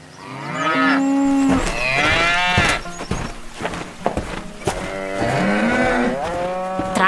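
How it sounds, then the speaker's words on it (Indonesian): Cattle in a warm barn near piles of yellow hay low and moo loudly and close, with several long calls overlapping and following one another, some rising in pitch, and no talking. "Di dalam gudang yang hangat, banyak sapi yang sedang berada di dekat tumpukan rumput kuning."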